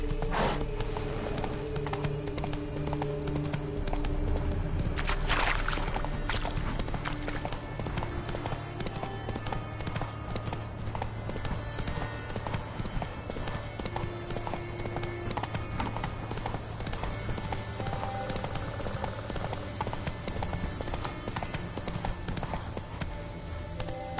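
Rhythmic clip-clop of a horse's hooves runs steadily and up close in The Witcher 3, with a brief neigh partway through and faint game ambience underneath.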